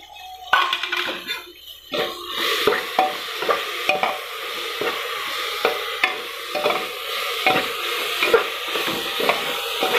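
Ginger added to a frying chickpea curry, with a bright sizzle and repeated scraping and knocking of a spoon against the pan at an uneven rhythm.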